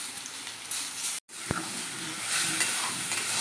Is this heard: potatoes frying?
yes